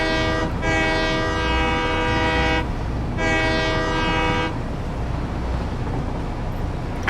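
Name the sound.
train horn passing in the video game Satisfactory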